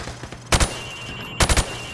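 Gunfire in Call of Duty Modern Warfare Remastered, shooting at targets through plywood: two short, loud bursts of several rapid shots each, separated by about a second of quiet.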